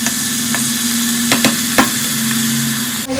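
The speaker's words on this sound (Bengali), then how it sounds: "এই কালো জিরা শুকনো লঙ্কা ফোড়ন দিয়ে আমি আলু উচ্ছেটা দিয়ে দিয়েছি।" Bitter gourd and potato fry in oil tempered with black cumin and dried red chili, a steady close sizzle with a few sharp spatula scrapes and clicks against the pan, no voices.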